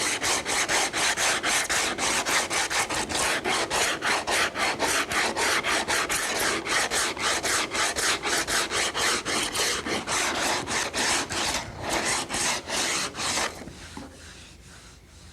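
Rapid, rhythmic rasping strokes of a sanding tube against fiberglass on a Corvette, steady and close, continuing for several seconds before slowing and trailing off.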